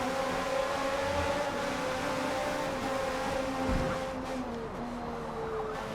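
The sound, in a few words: race car engine from a video game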